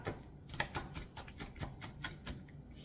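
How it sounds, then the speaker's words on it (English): Knife rough-chopping chicken pieces on a cutting board, a steady run of about a dozen sharp close chops with a few louder strikes, no voices. "you can always go through and do a bit of a rough chop"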